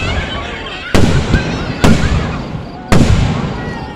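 Fireworks burst at Minersville's annual Independence Day show, three loud sharp booms spaced about a second apart over steady crowd noise and chatter.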